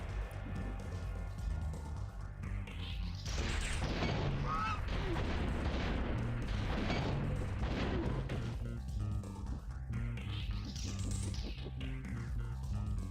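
A stubborn bird in Spyro 3: Year of the Dragon's garden level honks loudly over game music and rumbling ambience, with a couple of sweeping rising whooshes around it.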